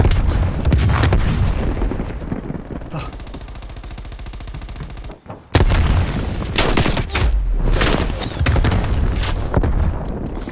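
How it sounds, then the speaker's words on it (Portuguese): Flash grenade bangs and bursts of gunfire from Call of Duty Black Ops Cold War on the Nuketown map, loud and dense throughout, with a sharp blast after a brief drop midway and heavy shooting continuing after it. "Lançando granada de luz."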